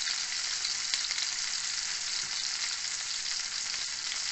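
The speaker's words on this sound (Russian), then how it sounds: "У нас кусочки небольшие, жарятся быстро." Small pieces of fish fry in a pan with a steady, even crackling sizzle, close and continuous, with no voices.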